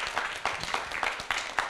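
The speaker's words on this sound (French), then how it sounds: "Est-ce qu'on peut applaudir nos membres du jury, s'il vous plaît?" An audience applauds a three-member jury at a youth competition event, a steady wash of clapping with a few sharper individual claps standing out, moderately loud and continuous.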